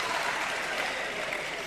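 An audience at a Jain monk's sermon claps in a short, dense burst of applause that stays even and fairly loud for under two seconds.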